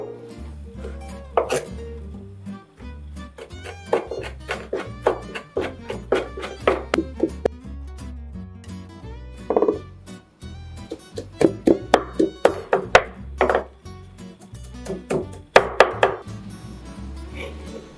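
A knife chops a handful of red chilies on a cutting board, a run of irregular sharp taps, close and clear, with occasional clinks of dishes between the cuts.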